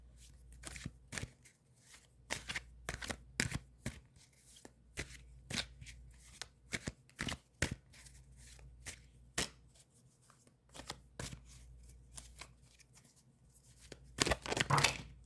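Cards are shuffled in quick, crisp riffling bursts separated by short pauses, close and clear, with a louder flurry near the end.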